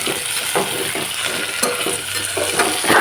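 Carrots being stirred into a frying pan, with a steady close sizzle and the repeated scrape and clatter of a spoon against the pan throughout.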